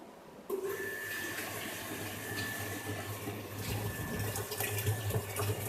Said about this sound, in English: Now I am switching on the pump.